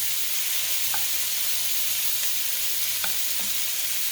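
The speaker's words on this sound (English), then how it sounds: "We'll just let these saute a bit." Vegetables sauteing in a couple of tablespoons of canola oil in a pan, giving a steady, even sizzle throughout with a few faint taps, no voices.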